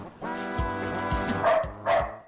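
Demon dog from the Doom video game barking in a harsh, growling burst, followed by several loud, close snarling barks in an uneven rhythm.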